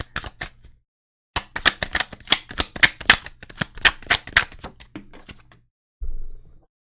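Tarot cards are shuffled in quick riffling bursts, a short flurry followed by a longer run of crisp flicks and then a brief tail, all close up with no voices.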